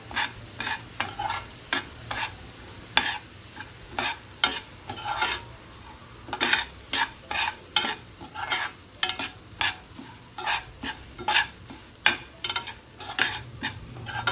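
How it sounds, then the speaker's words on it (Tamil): Semolina is stirred and roasted in a pan for kesari, with repeated scraping strokes in an irregular rhythm over a soft sizzle, close and moderately loud. "இப்போ இந்த ரவை 1 டம்ளர் ரவை எடுத்துருக்கோம் இல்லையா, அதை இந்த இதுலேயே கொட்டி நல்லா வறுத்துப்போம்."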